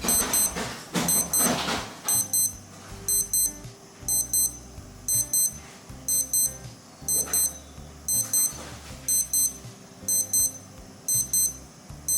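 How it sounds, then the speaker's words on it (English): Alarm beeping from a Casio A159WAD digital watch, repeating in quick bursts of tiny high-pitched beeps at a steady rhythm, with faint background noise and occasional thuds underneath. "just a good old-fashioned digital beep that gets the job done"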